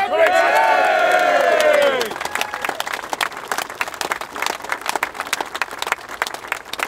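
Protesters at Speakers' Corner cheer and shout loudly for about two seconds, then the roar drops away into lively, crisp clapping from many hands that continues on its own.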